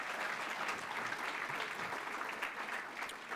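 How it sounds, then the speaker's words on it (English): Audience at a community leadership graduation forum clapping for the graduating class, a steady wash of applause from a roomful of people, moderately distant and even throughout, with no talk over it. "Would you now join me in a round of applause for this group of leaders in our community?"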